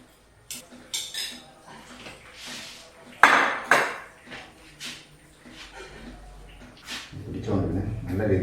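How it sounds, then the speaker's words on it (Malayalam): Spoon stirring yogurt into a raw banana curry in a pot, with scattered clinks and knocks of utensil against metal, a louder scraping stretch toward the end. "നല്ല രീതിയിൽ നല്ലപോലെ ഇളക്കി കൊടുക്കുക"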